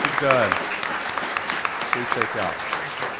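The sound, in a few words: audience applause at a comicon stage panel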